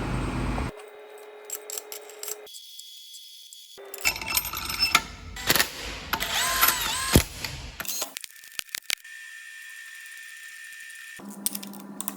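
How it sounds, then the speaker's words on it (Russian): Cylinder head bolts on an engine block are tightened with a wrench, giving bursts of ratcheting clicks and metallic clanks separated by quiet pauses. "Все, затягиваем болты блока цилиндров"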